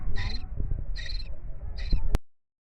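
Three short, high-pitched chirping bursts from a baby bird chick begging for food, evenly spaced over a low background rumble, close by, with a sharp click near the end and then silence.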